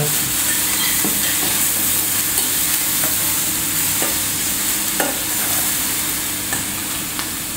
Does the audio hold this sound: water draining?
no